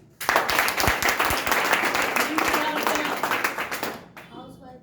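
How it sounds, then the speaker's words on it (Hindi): A group breaks into hearty clapping that starts abruptly, holds strong for about four seconds with individual sharp claps audible, then stops and gives way to faint talking. "एक बार जोरदार तालियां"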